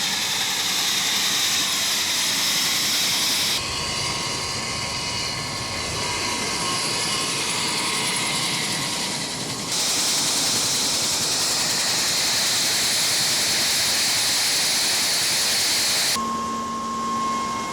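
A KUH-1 Surion military helicopter runs its engines on a snowy airfield at Fairbanks airport in Alaska, giving a loud, steady turbine whine over a rotor rumble that holds throughout, with the pitch shifting at several points.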